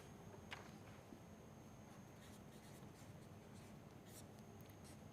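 A pen or chalk scratches across a board in a quiet room, faint, short strokes and taps spread over several seconds with no talking.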